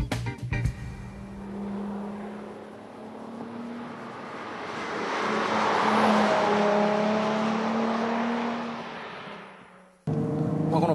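A Nissan Fairlady Z Version 2.0 with stiffened suspension and body and wide high-grip tires, driven on a winding road: a loud engine note that builds and climbs in pitch under acceleration, then eases off before an abrupt cut.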